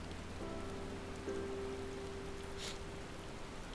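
Steady rain falls in Final Fantasy XIV: Heavensward as an even, continuous hiss, with a faint tonal hum running under it. No voices are heard.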